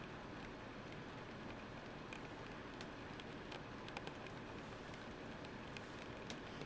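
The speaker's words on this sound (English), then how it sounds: "It's raining out right now." Rain patters steadily on the roof of a sailboat, a faint, even hiss of drops with scattered sharper ticks, no voices.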